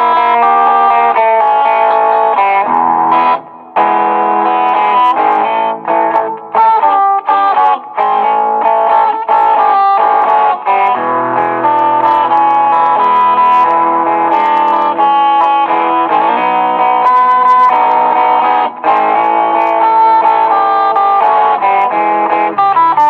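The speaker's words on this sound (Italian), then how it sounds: "con un filino di crunch, e utilizziamo tutte e due i pick up insieme" SG-style Soundsation Buffalo electric guitar with a slight crunch, both pickups on together, playing a continuous loud stretch of chords and riffs for over twenty seconds with no talking.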